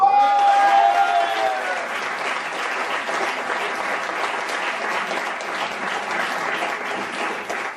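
A theatre audience at a film premiere applauds loudly and continuously, dense clapping that fades slightly after a brief voice at the start.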